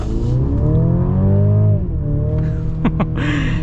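The four-cylinder engine of a 2023 Mercedes GLC 300 accelerates from inside the cabin, a close, smooth rising drone that climbs through a gear, dips at a shift and pulls again, with brief clicks near the end.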